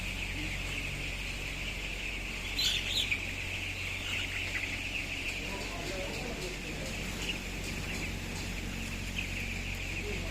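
Broiler chicks in a solar-heated poultry house keep up a dense, continuous chorus of high chirping over a low steady hum of the house, with faint talk in the background.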